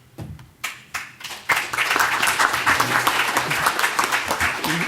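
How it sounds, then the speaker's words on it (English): Audience applause after a technical conference talk on replacing Swing with JavaFX, starting with a few scattered claps and swelling into steady, dense clapping from a sizable crowd, fairly close and loud. "Now you have to clap for everybody now"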